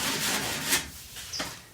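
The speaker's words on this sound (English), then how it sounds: "you use your old sand block in kind of a little circular motion" A sanding block rubs in small circular strokes along the edge of a wooden shelf, making a close, steady scratchy rasp that swells and fades over a couple of seconds, with no voices.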